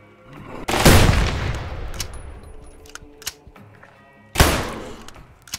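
Heavy gunshots in a boss fight in the video game Falsepine: a loud, booming blast that rings out and decays, a few faint knocks, then a second loud shot.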